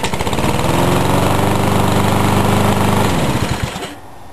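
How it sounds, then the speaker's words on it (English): A gasoline lawn mower engine runs at close range with a loud, steady, rapid putter, then winds down and stops after about three seconds, leaving a faint fading tail. "you can simply turn off the lawnmower by releasing the start lever"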